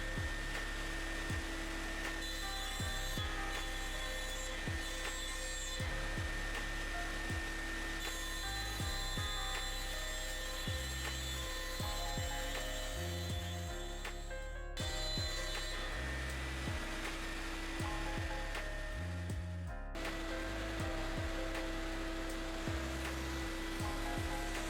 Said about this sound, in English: And now I'll run a cut at a pretty good feed rate